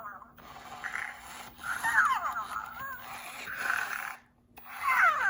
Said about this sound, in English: And the snoring gets quieter.